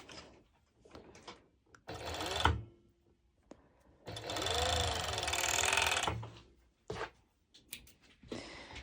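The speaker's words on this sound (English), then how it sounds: "I'm going to go ahead and I'm going to serge my band." Serger sewing a fabric band in two loud bursts of fast, buzzing motor stitching, a short run then a longer one, with quieter handling noises and brief pauses between.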